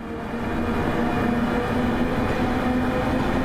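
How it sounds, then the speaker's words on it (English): A train on the Glasgow to Dunblane route in a train simulator game, its steady rumbling motor hum with a faint whine held at constant loudness, no voices over it. "Sounds like a train."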